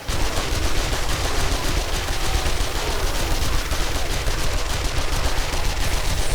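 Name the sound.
gunfire in video game 7 Days To Die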